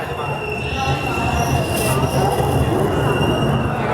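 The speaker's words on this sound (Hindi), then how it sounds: "तो अभी प्लेटफॉर्म नंबर 1 पे आने वाली है तपोवन एक्सप्रेस मुंबई नांदेड़।" The Tapovan Express, Mumbai to Nanded, rolls in to platform 1 at Nashik Road station with a loud rumble of wheels, squeals and metallic screeches rising over the din, while someone talks nearby.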